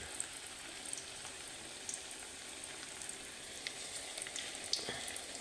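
Bananas fry in a pan, a faint, steady crackling sizzle with scattered small pops, close but quiet.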